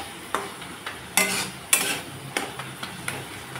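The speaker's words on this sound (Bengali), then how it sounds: "মাছের আরও 2 মিনিট কষিয়ে নিলাম" Dried fish sautéing in a pan for chutney, a steady sizzle broken by several sharp scraping strokes and clinks of a spatula against the metal, close and with no voices.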